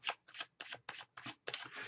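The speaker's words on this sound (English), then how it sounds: "Let's just finish the shuffle here." Tarot cards shuffled by hand in quick bursts, about seven crisp riffling flutters in under two seconds, close and clear with short gaps between, no voices.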